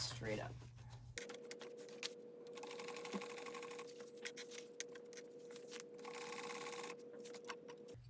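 A sewing machine stitches a pocket into a bag interior. A steady, close motor whir runs through most of the clip, with faint clicks and a brief spoken phrase near the start.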